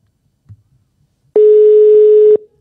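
A single steady telephone ringback tone sounds for about one second, loud and close, as an unanswered call goes unpicked, with a faint click beforehand and near silence around it.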